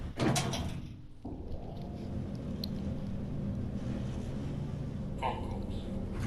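Lift doors sliding shut in Train Sim World 4 on the London Overground, a brief thud followed by a steady low mechanical hum of the lift, with a soft rattle near the end.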